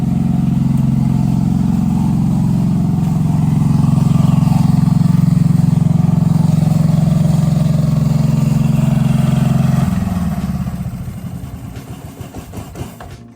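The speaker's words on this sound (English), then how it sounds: "I'm gonna turn off the generator now." A portable generator at a tent campsite drones loud and steady at close range, its low engine hum holding for about ten seconds before it is switched off and winds down, sputtering into quiet.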